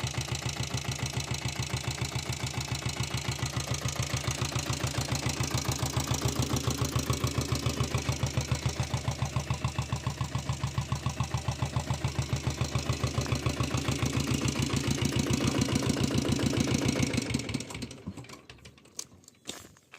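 A Royal Enfield diesel Bullet motorcycle with self-start idles steadily up close, a rapid, even mechanical thump loud and unbroken until it cuts off near the end, leaving faint background clatter.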